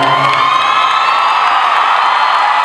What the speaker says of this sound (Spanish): gracias por esos aplausos que me han llenado el alma